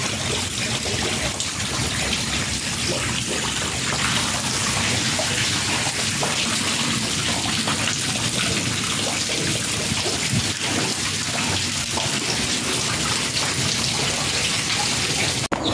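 Heavy rain pours steadily during a windstorm in Rahimabad, a dense, loud, continuous hiss of water with no pauses and no voices.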